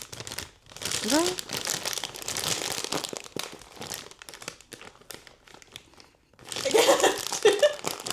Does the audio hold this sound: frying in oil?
no